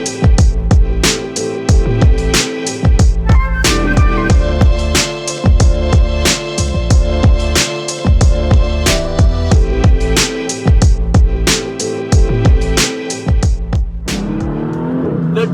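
A 2019 Porsche 911 GT2 RS runs with its exhaust valves closed, loud and close, with repeated sharp revs and throttle blips over a steady engine rumble that settles toward the end.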